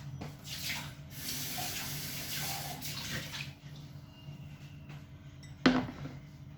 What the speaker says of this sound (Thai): แล้วเราก็จะใช้น้ำใช้น้ำล้างอีกทีหนึ่งนะคะ